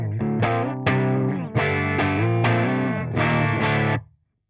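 An electric guitar played through the AMPETE amp on its clean setting, with a slight edge of drive, plays a loud sequence of ringing chords that ends abruptly in silence.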